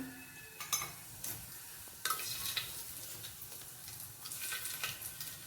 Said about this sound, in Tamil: அது கொஞ்சம் நல்லாவே சூடாயிருச்சு இப்போ வந்து கரம் மசாலா போட்டுக்கலாம்